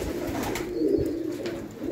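Pigeons coo in low, throaty murmurs, several overlapping calls close by with a steady rumbling flutter underneath.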